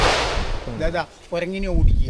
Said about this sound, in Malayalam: ഇപ്പൊ പടക്കം പൊട്ടിച്ചത് കുരങ്ങനെ ഓടിക്കാൻ